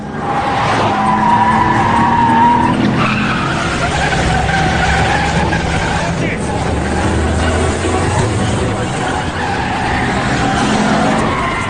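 In a film car chase running from a lakeside into a city, tires skid and engines roar continuously, loud and sustained beneath someone narrating.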